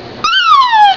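A young girl imitates a horse with a single high, loud whinny-like cry that rises then slowly falls, close to the mic and lasting under a second.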